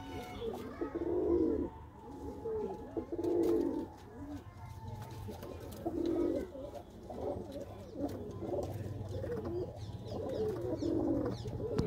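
Pigeons coo repeatedly in a loft, low throaty rolls recurring every couple of seconds at moderate loudness, with faint background murmur and a low hum underneath.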